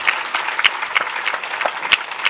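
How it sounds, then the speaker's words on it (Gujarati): Steady, dense applause from an audience at a live Shiv Mahapuran katha in Mahuva, loud and continuous throughout with sharp individual claps poking out of the wash. "અહીંયા તન, મન અને ધનથી જે કોઈ લોકોએ સેવા કરી હોય એને પણ જોરદાર તાળીઓના નાથી વધાવી લો."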